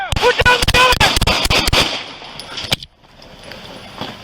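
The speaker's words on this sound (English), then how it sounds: "Shots fired. Shots fired." A rapid volley of gunshots during a police shootout with an attempted ambush on officers in West Sacramento, loud close cracks in quick irregular succession, followed by a lone shot and quieter aftermath.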